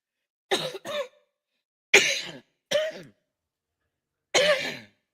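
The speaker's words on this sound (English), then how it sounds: "Here we go with this damn coughing" Several separate coughs, some in quick pairs, from one person close by with short silences between them, no talk around them.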